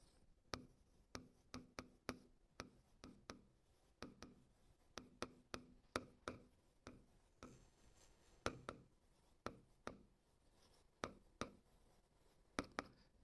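Pen or pencil writing on paper, with many sharp taps and short scratchy strokes in uneven bursts, close and fairly quiet, running continuously without talk.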